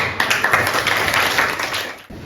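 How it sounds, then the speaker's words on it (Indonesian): Students in an Indonesian classroom lesson on computational thinking and AI give a short round of dense applause, close and fairly loud, fading slightly toward the end. "Oke, tepuk tangan dulu."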